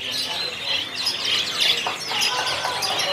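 Caged canaries for sale at a market bird kiosk keep up a steady, dense chorus of high chirps and trills at moderate level, with no clear pauses.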